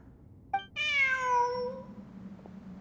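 A single drawn-out cat meow in the video game Genshin Impact, clear and fairly close, after a soft click, with a low hum continuing afterward.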